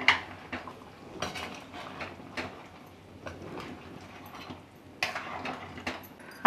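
Malvani-style crab curry being mixed in a pot at home, with a series of sharp spoon-on-metal clinks and scrapes spaced irregularly through quiet kitchen background, a couple louder knocks near the end.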